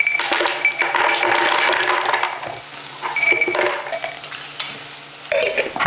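About half a cup of Brazil nuts is measured out and poured into a kitchen container for a nut-based sauce, with close, busy rattling and light clinks running throughout and no voices.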